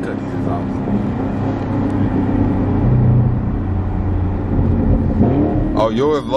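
A loud car engine rumbles and revs nearby with a raw, unmuffled tone from a cut exhaust, steady throughout with people talking over it near the end.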